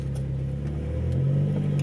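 A Nissan Gazelle S12 engine rumbles steadily and rises slightly as the car pulls away, a close, continuous low drone with no talk.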